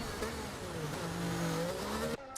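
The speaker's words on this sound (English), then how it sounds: "There goes the Williams into the pits right about now." A Williams Formula 1 car in a racing game drives into the pits at the Brazilian Grand Prix, its engine holding a steady, fairly faint whine with a few pitch shifts before it cuts off sharply.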